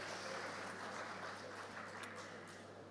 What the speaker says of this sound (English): A big round of applause for Shraddha as well.